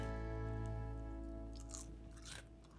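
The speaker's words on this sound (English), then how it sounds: "No one is gonna know if I taste it immediately while it's super hot and crispy." A bite into hot, crispy fried food served with mayo on the side, a close crunch and chewing that rises near the end, heard alone without talk.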